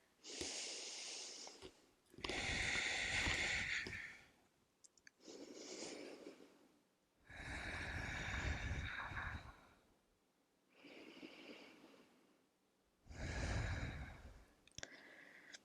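Slow, deep breaths drawn in a quiet yoga session, about three full inhale-exhale cycles, each a long airy rush followed by a pause, close and fairly soft with no talking.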